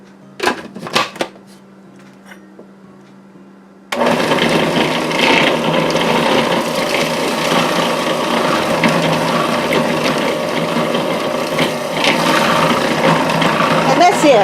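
A food processor whirs loudly and steadily as it mixes pie crust dough into a ball, starting abruptly after a few seconds of quieter clicks and handling noises.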